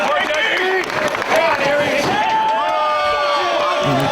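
Crowd at a ROH Dragon Gate wrestling event jeers and shouts in a busy roar, with whoops and scattered clapping under several voices talking.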